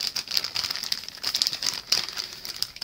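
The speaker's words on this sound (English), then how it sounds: "the fun part is to open up this lovely plastic bag here" Crinkly rustling of a plastic bag being opened, close up, in irregular bursts of crackles and crumples with brief pauses.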